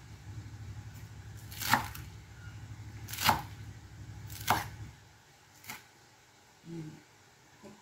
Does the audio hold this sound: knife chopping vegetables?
yes